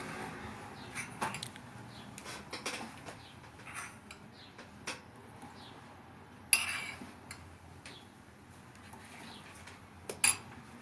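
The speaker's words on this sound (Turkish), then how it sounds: "Suyun içerisine 5 kaşık tuzu ilave ediyorum." A spoon clinks against a glass or bowl while five spoonfuls of table or rock salt are stirred into water, sparse small taps and rattles at close range, with a couple of sharper clinks standing out.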